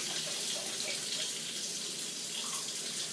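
Water sloshes steadily inside a container holding butter as it is shaken by hand, a continuous splashing wash at moderate, close level with no voices.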